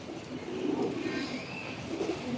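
A pair of Giribaz pigeons coos at close range, giving low, soft, rolling calls that repeat steadily through the whole stretch over faint background noise.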